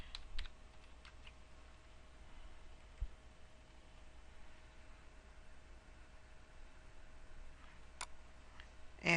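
Light tapping on a computer keyboard as a search is entered into a library database, soft and close in a quiet room with a faint steady hum underneath.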